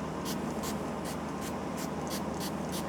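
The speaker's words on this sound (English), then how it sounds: "I'm just going to use this little spray bottle on mine." A small spray bottle misting scented oil onto a fabric pumpkin, with about eight short, sharp hissing pumps in an even rhythm over a low steady background hum.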